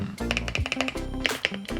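Quick typing on an Aula F65 mechanical keyboard with yellow switches gives close, dense clacks in rapid irregular bursts, with no talking over them.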